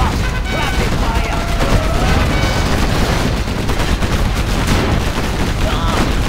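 Rapid, sustained gunfire from massed units in the real-time strategy game Generals Zero Hour, a dense continuous barrage of shots and booms filling the whole stretch, loud and close, with no talk over it.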